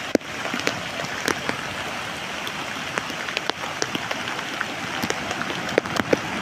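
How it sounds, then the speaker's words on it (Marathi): First monsoon rain of the Konkan season pours at Kalvi Bandar beach near Vengurla, a dense steady hiss of drops hitting surfaces, sprinkled with sharper close splashes and ticks throughout. "हा पहिला पाऊस आहे कोकणातला"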